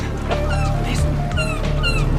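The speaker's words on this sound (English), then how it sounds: "Seagulls! Seagulls!" Seagulls give several sharp, descending cries out at sea near land, heard over a constant low rumble in a Viking drama scene.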